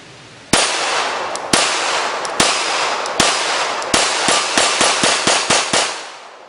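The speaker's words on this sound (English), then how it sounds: "we have Glock 17. Go ahead and take a few shots." Glock 17 handgun fired at steel plates outdoors: ten sharp, loud shots, spaced at first and then coming faster, each with a brief ringing decay and no talking.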